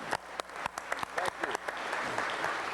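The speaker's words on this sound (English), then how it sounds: "give them a big round of applause" A city council chamber audience applauds a team, the claps starting sparse and sharp, then swelling into steady, moderately loud clapping for about three seconds with no one talking.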